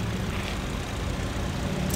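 A 2013 GMC Terrain SLT-1's 2.4-liter inline four-cylinder engine idles under an open hood, a steady, close, smooth broadband hum with no talking.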